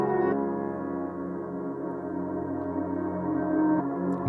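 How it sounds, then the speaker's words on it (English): A sustained, reverb-soaked note hangs for several seconds with a gentle swell, then stops suddenly, giving a backwards, sucked-in feel. "so sometimes you get like a reversed note like this."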